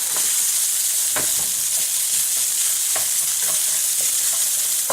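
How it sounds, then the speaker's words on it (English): Jasmine rice and vegetables stir-fry in a wok with a loud, dense hiss and repeated sharp scrapes and knocks as the rice is broken apart and tossed. "I want to just break this rice apart and stir fry it along with all these vegetables"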